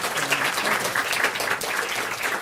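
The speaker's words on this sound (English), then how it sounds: "Let's give one more round of applause." Steady audience applause at the close of an academic seminar's question session, a dense even wash of many hands clapping without pause.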